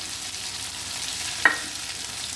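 Greens tossed with slit green chillies and chilli pickle in a pan, a steady soft sizzle with one brief utensil scrape partway through, no voices.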